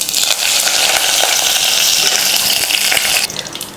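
Mustard seeds and urad dal crackle and hiss loudly in hot oil, a dense bright spattering that runs continuously before dropping off abruptly toward the end.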